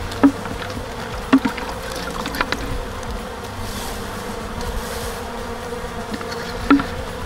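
Honey bees swarm and buzz around a newly populated hive, a dense, steady insect drone close by with a few brief louder thumps and no voices.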